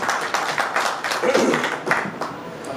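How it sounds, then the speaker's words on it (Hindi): Clapping from an audience at a panel discussion on a sustainable Pakistan, a crowd of hands patting at a steady moderate level with voices murmuring underneath. "अगर इस बात पर आप ताली बजा दें तो बहुत शुक्रिया होगा"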